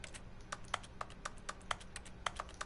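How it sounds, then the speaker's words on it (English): Keyboard keys clatter in quick, irregular taps inside the video game The Stanley Parable, faint and close, a dozen or so crisp clicks with no talking. "Those sound like keys."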